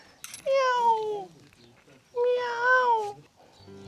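A cat meows twice, each call a clear, drawn-out cry in a quiet room inside a village house in Russia, with a short pause between the two.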